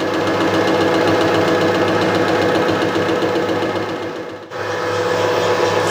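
Milling machine at about 600 RPM taking a finish cut across a face of alloy steel for a vise screw, a steady loud machining drone with dense high cutting noise, briefly dipping near the end before resuming.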